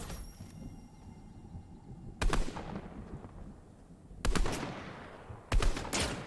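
Three sharp sniper shots ring out in a video game, each a loud broadband crack with a decaying tail, spaced about two seconds apart over a low background bed.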